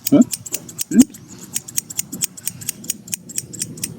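Steel scissors snipping while cutting hair at home, a quick run of sharp metallic clicks, some spaced and some in fast bursts, close up with a few low vocal sounds between them.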